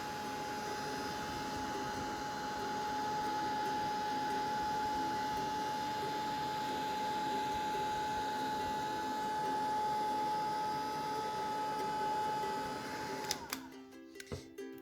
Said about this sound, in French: Au fer à embosser, vous pouvez chauffer comme ça, ça va sécher beaucoup plus vite.